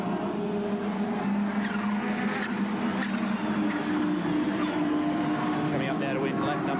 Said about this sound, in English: over the bridge to Brock as they make the run down to this very fast left-hand run through Yamaha Corner